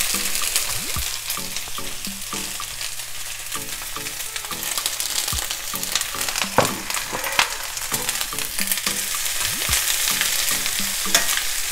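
Sliced onions drop into hot oil with urad dal and are stirred in a pan, making a loud, continuous sizzle broken by repeated scraping and stirring strokes and an occasional clatter. No one speaks.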